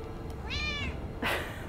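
A cat in the video game Sekiro: Shadows Die Twice gives one short, clear meow, followed by a brief breathy sound over a low steady background hum.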